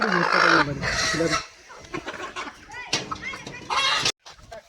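Free-range country chickens and small chicks raised on a village dump heap clucking and calling, loud and close at first, then scattered clucks continuing under people talking nearby.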